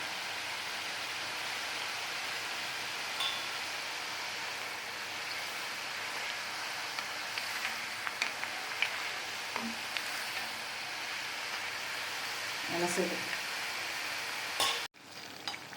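Urad dal murukku fries in hot oil in a wide pan, a steady dense sizzle and bubbling heard up close, with a few clinks and stirring sounds near the end.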